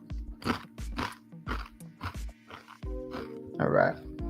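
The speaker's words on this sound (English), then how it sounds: "Sorry if you hear me crunching." Loud, close crunching of chips being eaten, a steady series of sharp bites and chews about every half second, with a brief rustle near the end.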